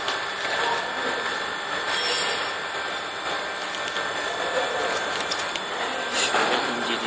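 A fiber laser cuts a steel insole plate with a steady, even hiss and faint high whine, plus light intermittent crackle. It plays alone at moderate level, with no talking.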